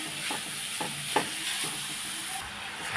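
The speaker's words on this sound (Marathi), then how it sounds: "आता याला गुड पकडेपर्यंत मिक्स करून घेऊ" Grated coconut and jaggery modak filling cooking in a pan: a soft steady sizzle with a few scraping stirs of a spoon, close and moderately quiet, with no talking.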